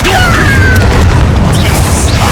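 Repeated spell-casting impacts from Hogwarts Legacy crash and boom in a dense, continuous barrage, loud and close, with magical whooshes layered over a heavy low-end rumble and no pauses.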